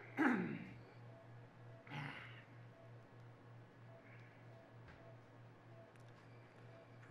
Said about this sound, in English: Perfect timing for a cough.